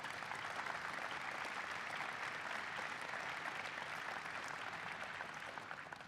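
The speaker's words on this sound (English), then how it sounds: "Please give them a big round of applause" A large audience applauds at a White House energy event, steady even clapping at a distance, continuing without pause and softening slightly at the end.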